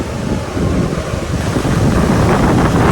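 Strong wind buffets the microphone in a steady, loud low roar with constant rumble, no voices present, outdoors during roadside cooking on a bike tour in Tamil Nadu.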